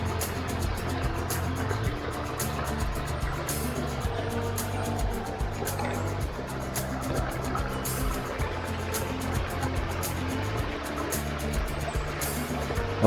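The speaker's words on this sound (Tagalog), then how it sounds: "rinig ninyo yung tubig." Water flows and gurgles steadily in an irrigation canal on a farm lot. The rushing wash is continuous and close, with a low rumble beneath it.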